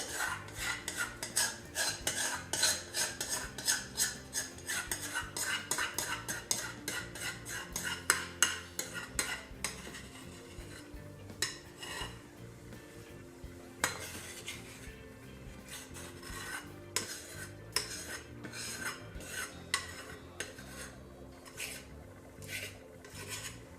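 A spatula or spoon scraping and tapping cake batter for a healthy whole wheat plum and nut cake into a baking pan, a busy run of close metallic scrapes and clinks that later slows into scattered knocks.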